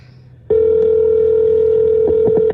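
A telephone line clicks in, then a loud steady dial tone sounds close up, followed near the end by a few quick touch-tone dialing beeps.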